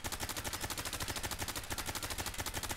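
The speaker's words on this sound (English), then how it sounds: "I'm just burst firing." Rapid bursts from a VSS / AS VAL rifle in Fallout 4, a dense, fast stream of evenly spaced shots filling the clip, loud and close with no speech.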